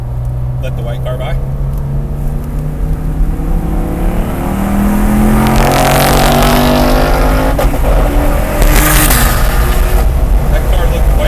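Race cars on the Heartland Park track during a high-performance driving session, with a loud, continuous in-car engine drone that swells as another car closes in and passes, while an instructor's voice talks over it.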